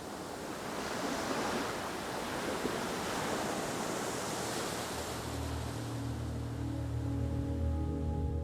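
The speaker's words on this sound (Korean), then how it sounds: "풍성 사고를 등지고 있는 해변은 북서풍이 몰고 온 파도를 그대로 받는 곳입니다." Waves driven by the northwest wind break steadily on an exposed island beach, a dense continuous wash of surf with wind noise against the microphone and no talking.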